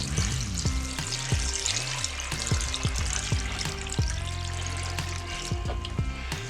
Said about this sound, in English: I'm going to shoot it with my water right now.